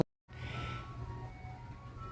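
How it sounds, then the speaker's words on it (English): After a brief silence, an ice cream truck's jingle plays at a distance outdoors, thin tonal melody lines floating over a steady low background rumble near a container garden. "that is definitely the ice cream truck"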